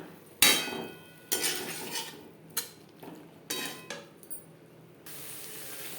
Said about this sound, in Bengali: মশলার সাথে আলু বেশ ভালো করে মিক্সড করে দেবো